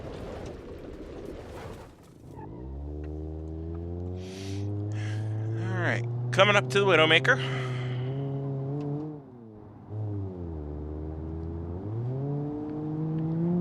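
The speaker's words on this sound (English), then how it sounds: "the little 4-cylinder just winds itself up, propel the car along" Ibishu Covet four-cylinder engine in BeamNG.drive revving steadily at speed, a droning tone climbing and falling through gear changes, with a brief higher clatter midway and someone talking over it.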